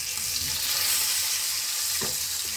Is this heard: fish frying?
yes